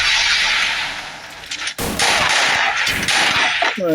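Counter-Strike match gunfire in a custom tournament: a sustained rattle of rapid shots with sharp bursts near the middle and end, loud and close, with a commentator faintly under it.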